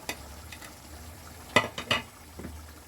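A spoon stirs Peshawari mutton karahi with lemon and green chillies in the pan: soft, quiet scraping, then two sharp metallic clinks close together, with a faint sizzle beneath.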